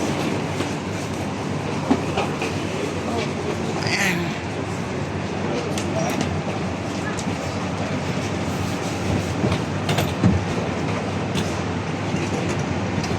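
Steady rumble and rattle of an airport train ride in Beijing, continuous low rolling noise with faint clicks and occasional soft thumps, heard from inside the car with no clear talk.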